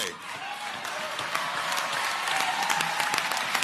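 A standing audience applauds at a political convention, steady broadband clapping with scattered sharper claps, sustained and loud for several seconds with faint crowd murmur beneath.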